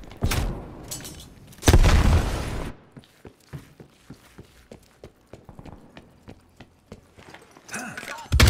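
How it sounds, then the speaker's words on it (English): A grenade explodes in a video game as one loud, sudden blast lasting about a second, followed by a string of sharp clicks and taps, then another burst at the very end. "Enemy grenade!"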